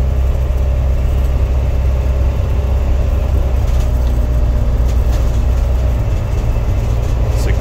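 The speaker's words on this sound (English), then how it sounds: "This is a 1992 Toyota Coaster bus with a motorhome conversion." A 1992 Toyota Coaster diesel minibus with a motorhome conversion cruising down the road, its engine and road drone a steady, loud low rumble throughout with broadband road and wind noise, no voices.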